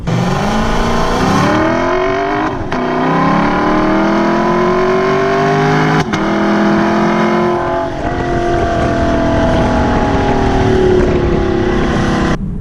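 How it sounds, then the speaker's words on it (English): A 2018 Lexus LC500 exhaust note heard from the cabin while driving, a loud, continuous engine drone that rises and falls through gear changes, with brief shift breaks and no talking. "The engine note that this, or the exhaust note I should say, that this produces is great."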